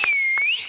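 A single sharp whistle from someone cheering an actress on a Marathi comedy stage show, one sustained bright note that dips and rises again, loud and close, with short bursts of crowd noise beneath.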